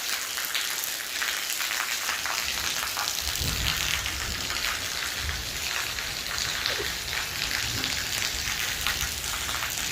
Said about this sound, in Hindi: बाहर आई तो मैंने देखा इतनी गजब की बारिश हो रही है